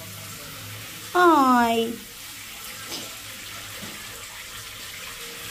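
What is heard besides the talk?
shower running water into a bathtub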